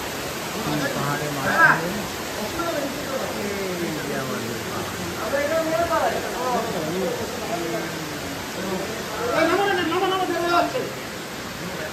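Water spilling down from a waterfall overhead inside a rocky hill cave on the Sonaichori trail, a steady broadband rush that runs the whole time beneath people talking.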